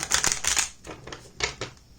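A tarot deck is shuffled by hand in a few quick bursts of riffling, papery card clatter. The shuffling is close and fairly crisp, with brief pauses between passes.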